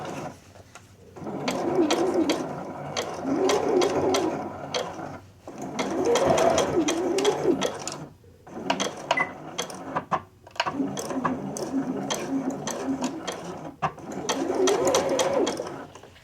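Juki sewing machine stitching a curved bodice seam in thick denim, loud, close rapid mechanical chatter in several long runs separated by short pauses and handling clicks.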